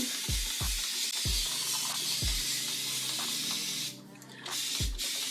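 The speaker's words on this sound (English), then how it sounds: "I got this spray bottle from Amazon." A spray bottle mists water onto high-porosity curly hair, with steady hissing sprays and a few sharp low thumps of the trigger, close and fairly quiet, with a brief lull near the end.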